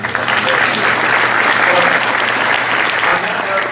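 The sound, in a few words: audience applause at a panel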